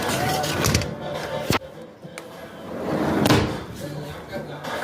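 An indoor door is pushed shut, giving one sharp, close thud partway through, amid room noise and voices in the background.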